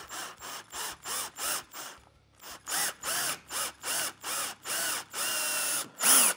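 A drill bit bores through pine guitar wood in a quick series of short, loud, evenly spaced whirring bursts with brief pauses between them, close up with no talking.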